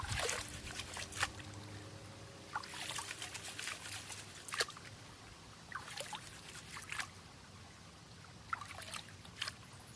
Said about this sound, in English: Washing that material real good before I start really